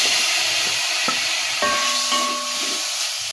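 Tomatoes are stirred into a frying spice masala for a bitter gourd curry, with a steady close sizzle and hiss broken by a few soft stirring knocks against the pan.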